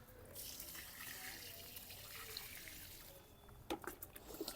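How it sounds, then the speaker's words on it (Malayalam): Diluted rice water poured from a container onto the base of brinjal plants growing in the ground, a steady close splashing trickle that stays soft, with a few sharper splashes near the end. "ബാക്കി ഡൈല്യൂട്ട് ചെയ്ത കഞ്ഞിവെള്ളം കൂടെ നമുക്ക് ഇവരുടെ ചുവട്ടിലോട്ട് ഒഴിച്ചു കൊടുക്കാം."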